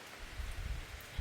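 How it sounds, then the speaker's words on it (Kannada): Soft rain falls at a hillside estate, a faint, steady patter of drops with a few slightly louder ones, heard close by without any talk. "ಪುನಃ ಬಂತು ಮಳೆ."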